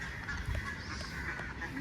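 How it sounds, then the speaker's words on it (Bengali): Ducks quacking outdoors on a cloudy day while foraging for worms, with repeated nasal honking calls over a steady background hum and no talking. "হাঁসগুলো কেমন প্যাক প্যাক করছে"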